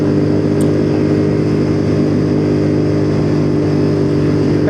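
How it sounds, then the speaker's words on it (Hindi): A Royal Enfield motorcycle's exhaust thrums steadily while it is ridden on the road toward Agra: a loud, continuous engine drone that holds an even note throughout, with no voices over it. "एग्जॉस्ट की साउंड भी आ ही रही होगी आपको, मज़ेदार एग्जॉस्ट की साउंड।"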